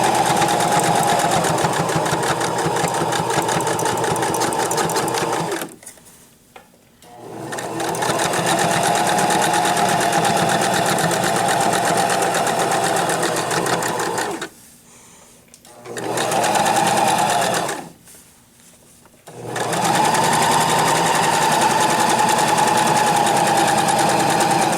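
A sewing machine runs around the edge of a duck pillow in long steady bursts of close, loud motor whir and needle chatter, stopping briefly three times before resuming.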